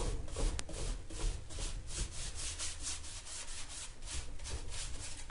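Decoupage paper edges sanded along the bottom of a piece, heard as a rhythmic rubbing scrape repeated in quick back-and-forth strokes, close and fairly quiet, with no speech.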